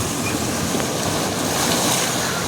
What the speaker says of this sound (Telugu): అలలు అయితే చాలా ఎగిసి అయితే పడతా ఉన్నాయి.